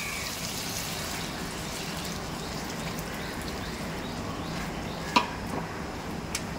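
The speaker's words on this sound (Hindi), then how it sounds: "अब इसके अंदर डाल देंगे हम पानी" Water poured into a pot of prawn pulao masala for a Goan prawns pulao, a steady, even splashing and hissing stream that runs close and continuous, with a small clink near the end.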